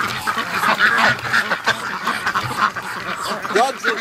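A flock of Muscovy ducks making a busy chorus of quacks and honks close by, with a voice speaking briefly underneath.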